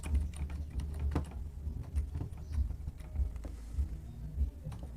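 Computer keyboard typing, a fast scattered patter of light key clicks at close range over a steady low background hum, with no one talking.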